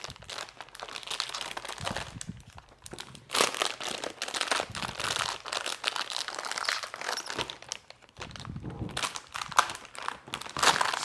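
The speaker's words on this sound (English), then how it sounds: "Go ahead and cut this tape." Packing tape is sliced and pulled off a cardboard box holding an old NVIDIA Quadro graphics card, giving close, continuous crinkling, tearing and rustling noises with irregular bursts.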